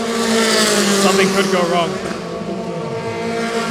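Formula 4 race cars at full throttle through a tight last corner at a South East Asia championship, a loud high engine roar that swells and fades as the cars pass, with a commentator talking over it.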